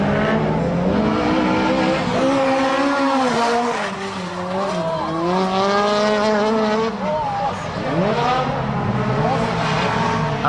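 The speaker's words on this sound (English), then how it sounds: "Groups of 10 cars were allowed to drift at once" A group of about ten drift cars rev and whine together with shifting pitch while tires squeal, a loud, continuous roar of cars sliding through a corner at YZ Circuit.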